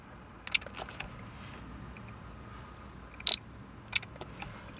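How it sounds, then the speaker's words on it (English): Fujifilm X100F leaf shutter firing several times, faint, soft separate clicks over a low background hush, with one slightly stronger double click near the middle. "And it's also a very silent leaf shutter."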